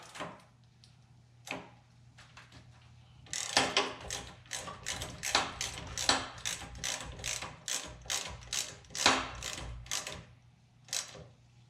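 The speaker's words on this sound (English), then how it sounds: "Tighten this screw up." A screw being tightened on the frame of a 1966 C2 Corvette convertible top, a ratchet giving a few scattered clicks and then a long run of rapid, close ratcheting strokes, with no talking.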